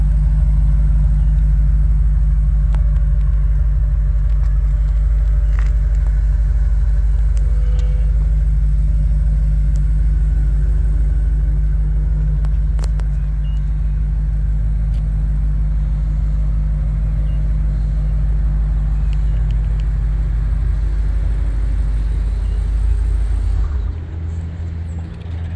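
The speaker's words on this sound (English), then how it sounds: "Let's get a shot of the quad exhaust" Steady low exhaust rumble from a 2023 BMW M5 with quad exhaust pipes, idling close by as a deep, continuous drone that holds level and drops slightly at the very end.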